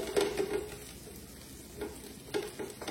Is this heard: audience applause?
no